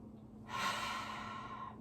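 A single slow, deep breath taken during a gentle yoga session, close and soft, rising into a long airy exhale that fades out.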